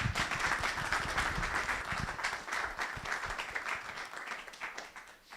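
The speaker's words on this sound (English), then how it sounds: "give him a round of applause" At an open source technology conference, the audience claps to welcome a speaker, a burst of dense applause that stays strong at first and then thins and tapers toward the end.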